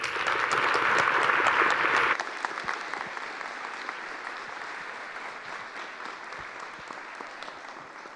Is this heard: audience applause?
yes